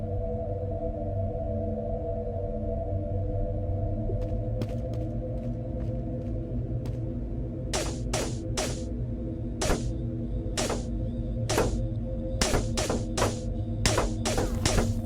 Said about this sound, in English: It's Morse code.